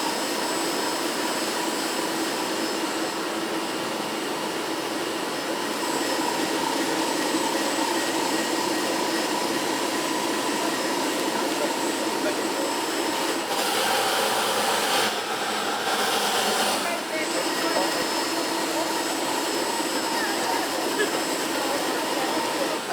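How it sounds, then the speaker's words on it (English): A Strongbond grinder and polishing machine runs with a vacuum attached. It makes a steady, loud whooshing roar close by, like a vacuum cleaner, with brief shifts in tone partway through. "A great polishing machine, really easy to operate, easy to sit, smooth, quiet."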